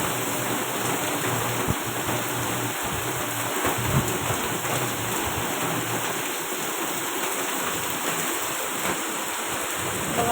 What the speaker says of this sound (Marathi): खूप जोरात पाऊस आहे.